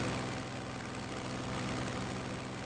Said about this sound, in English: Engines at top performance.